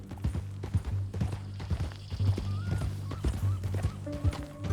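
Horse hooves in Red Dead Redemption 2 clip-clop in a brisk, steady rhythm over a low rumble, close and loud, with a short whinny-like call partway through.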